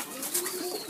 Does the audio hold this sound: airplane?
no